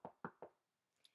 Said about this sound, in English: Soon, Little Red Riding Hood knocked on the door.